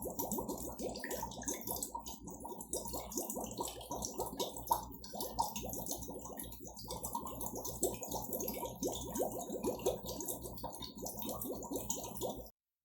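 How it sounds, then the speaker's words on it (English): Continuous bubbling and gurgling of air blown steadily through a straw into water while practising circular breathing for saxophone, a dense, even stream of small watery pops and drips lasting throughout with no talking. "we can even hear the bubbles"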